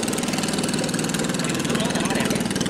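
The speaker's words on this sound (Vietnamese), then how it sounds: "Thì đó là tại vì nó là một chiếc tàu cao tốc cho nên cái động cơ thì đây." A speedboat engine idling, a steady rapid throbbing rumble that stays loud and close throughout, with a person talking over it.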